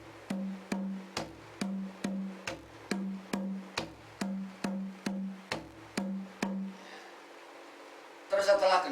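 Close, clear Javanese kendang hand drum playing the kendang salan pattern, the closing line of a lancaran: an even sequence of crisp slaps over a booming low tone, then a short pause and a final flurry of bright strokes.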